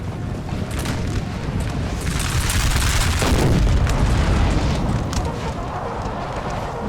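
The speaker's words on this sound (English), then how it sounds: "the artillery struck the infantry" Artillery fire in Napoleon: Total War, heard as a continuous dense roar of distant cannon booms and battle noise, swelling briefly louder around the middle, with faint talk underneath.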